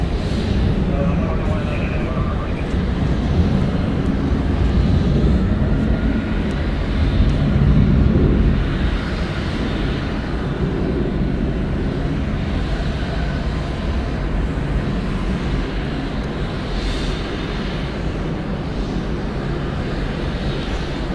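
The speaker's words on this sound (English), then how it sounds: "Delta Airlines, flight 1258, coming in from Austin, Texas. It's an Airbus A321, 6 years old." A Delta Airlines Airbus A321 at Atlanta Hartsfield-Jackson airport, its distant jet rumble swelling and fading under ongoing talk and radio chatter.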